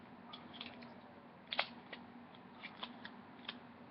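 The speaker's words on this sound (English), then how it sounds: "I'm going to take my tape and I'm going to tape something on there." Tape being pulled and pressed onto a notebook page, with quiet crinkles and a few sharper snaps and taps, close and soft with no talking.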